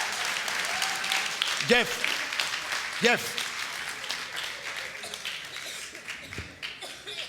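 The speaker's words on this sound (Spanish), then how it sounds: "Dale un aplauso bien fuerte al Señor" A church congregation at a Spanish-language service claps loudly and steadily throughout, while a preacher's voice rises over the applause in short exclamations.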